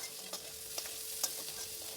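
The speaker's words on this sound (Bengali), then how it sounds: "হলুদ দিয়ে ভেজে নেব।" Beans, carrot, cauliflower and peas fry with salt and turmeric in oil, a faint steady sizzle with a few soft clicks of stirring.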